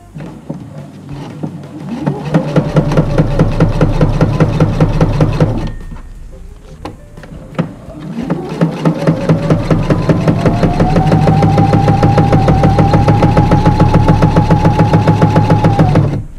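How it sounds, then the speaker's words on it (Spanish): Sewing machine with a standard presser foot stitching faux leather, a loud steady mechanical whirr in two long runs, the second longer and rising slightly in pitch, with a brief pause between. "Primero voy a coser con el prensatelas normal para que veáis la diferencia entre uno y otro"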